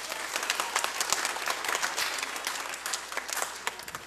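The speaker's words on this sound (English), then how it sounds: "So if y'all would just give them a round of applause" Steady applause from an audience honoring volunteers at a commencement ceremony, dense clapping filling the room for about four seconds with no voice over it.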